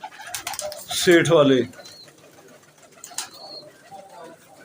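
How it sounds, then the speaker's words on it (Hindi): Teddy pigeons, including netted and royal teddy birds kept in a loft, coo softly in the background while someone talks loudly over them, with some wing flutter. "ये टैडी कबूतर हैं सारे, जालदार टैडी, इस तरह मैरों वाले, रॉयल टैडी"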